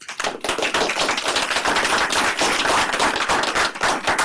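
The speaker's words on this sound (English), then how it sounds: "I better see my students clapping." Audience at a biotechnology conference clapping steadily, a dense wash of overlapping hand claps at moderate loudness throughout.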